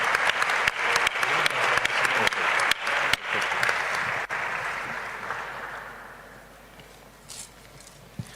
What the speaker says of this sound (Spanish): Nuestro agradecimiento y un aplauso